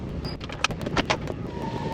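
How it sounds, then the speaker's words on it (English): A 1999 Mercedes SL 600 convertible top goes back up with close mechanical clunks and clicks, a few sharp knocks, and then a faint electric motor whine near the end, with no talking. "So now we're gonna put the top back up."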